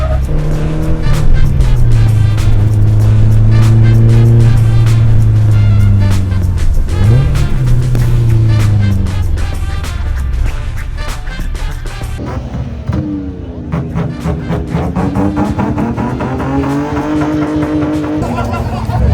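A loud car engine roars and revs through gear changes on the road, droning steadily with a shift partway through and talk faintly underneath.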